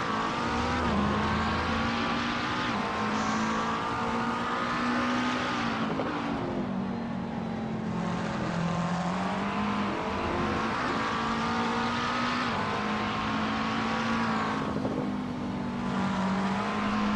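GT race cars at Barcelona run flat out, their engines droning loud and continuous for the whole stretch with pitch rising and falling through gear changes and corners, no voices over them.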